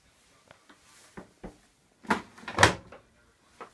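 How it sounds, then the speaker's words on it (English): A Samsung Eco Bubble washing machine's plastic soap dispenser drawer is handled, giving a few light clicks and taps, then two louder sliding, clunking knocks near the middle and a faint click at the end, with no talk. "And a large soap dispenser drawer."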